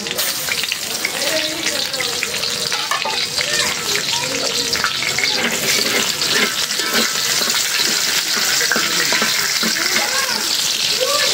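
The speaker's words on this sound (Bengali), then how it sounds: "শুকনো মরিচটা ভালো করে ভেজে নিলাম।" Dried red chilies sizzle steadily in hot oil in a pan, a continuous bright crackling fry that holds even and close throughout with no pauses.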